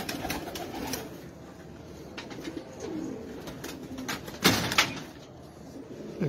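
Rare Sialkoti pigeons at a loft in Pakpattan coo in soft, repeated low rumbles, with a sharper burst of fluttering or movement midway and steady background noise throughout.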